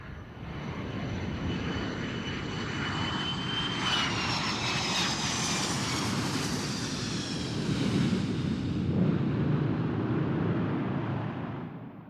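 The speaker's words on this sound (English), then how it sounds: "A passenger jet lands at the airport in Tel Aviv, Israel." A passenger jet lands at the airport in Tel Aviv, Israel, its engines roaring loud and steady with a rising whine and broadband rumble that swells slightly near the end, with no voices.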